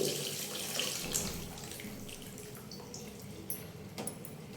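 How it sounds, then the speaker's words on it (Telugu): Tamarind juice poured into a pan of egg curry makes a steady splashing pour that is strongest at the start and tapers to a softer trickle, close by and fairly quiet. "మనం కలిపెట్టుకున్న చింతపండు రసం వేసుకోవాలి."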